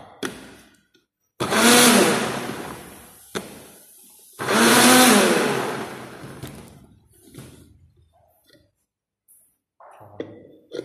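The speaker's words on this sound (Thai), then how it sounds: "กระเทียมเราก็จะปั่นใช้เครื่อง ปั่นกระเทียมให้ละเอียดนะครับ" A blender grinds garlic finely in two loud whirring bursts of a few seconds each, separated by quiet. Brief softer clatters follow, as if the jar or a spoon is being handled.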